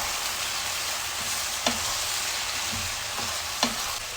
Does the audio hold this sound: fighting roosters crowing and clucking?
no